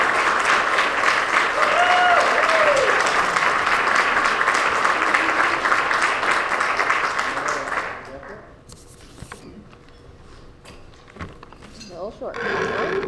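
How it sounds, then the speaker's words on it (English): Loud, dense applause from an awards ceremony crowd fills the first several seconds, then fades out into a quieter room with a few scattered sounds. "Please help me to applaud Allison Gilmore"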